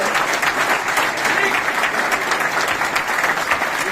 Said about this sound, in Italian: mi dà un applauso forte